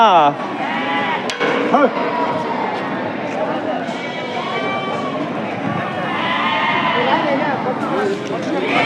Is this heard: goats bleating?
yes